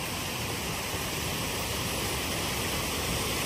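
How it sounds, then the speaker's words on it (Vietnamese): A mountain stream rushes downhill in a continuous, dense roar of flowing water, close and steady throughout. "Đấy, bên này là cái dòng suối chảy xuống các bạn ạ."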